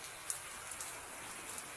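Soft, steady rain drizzles over farmland, a low, constant hiss broken by a few light drop clicks, distant and calm, with no speech.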